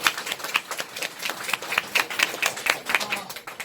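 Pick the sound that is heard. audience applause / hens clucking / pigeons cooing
audience applause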